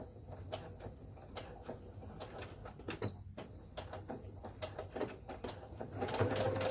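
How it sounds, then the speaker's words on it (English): Sewing machine top-stitching fabric, a faint, fast, steady mechanical whir with regular ticking clicks running throughout, quiet and alone. "So now I'm going to top stitch"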